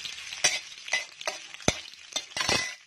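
Potatoes fry in cumin tempering as a spoon stirs them in the pan, with several sharp scraping clinks over a soft sizzle, close and fairly quiet.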